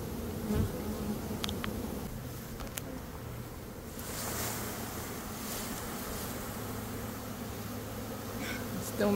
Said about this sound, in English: Sometimes there's too many bees.